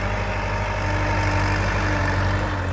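A Kubota tractor digging up cassava in a field in Surin, its diesel engine running at a steady, loud, low rumble throughout with no talk.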